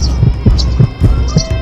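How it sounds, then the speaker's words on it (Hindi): A heartbeat sound effect in a spooky Hindi story, a steady series of deep low thuds, about five or six beats, over a continuous hum. The beat stands alone, with no talk over it. "पायलों की आवाज से मंजुला अम्मा की धड़कन बहुत तेज हो जाती है।"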